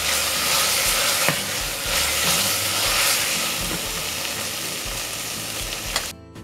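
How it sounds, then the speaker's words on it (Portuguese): Tomato paste sauce being stirred in a hot pan, a steady loud sizzle and hiss throughout with a few faint scrapes, ending abruptly near the end. "Vou misturar."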